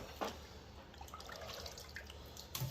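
Water rinsing over a painted part after a rust and paint removal treatment, a faint steady trickle and drip with a few brief splashing bursts, quiet and close.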